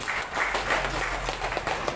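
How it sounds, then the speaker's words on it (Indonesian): An audience at a company gathering for PT BBC claps in a continuous, moderately loud patter over a low steady hum, with a few voices faintly audible. "Tepuk tangan buat BBC."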